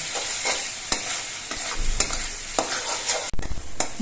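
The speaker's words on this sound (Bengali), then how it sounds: "এই মশলাগুলো কষানোর সময় গ্যাসের ফ্লেমটা কিন্তু কমিয়ে রাখতে হবে" Spices frying in oil in a pan over a low gas flame, a steady close sizzle broken by scraping strokes of a spoon as the mixture is stirred, with no talking.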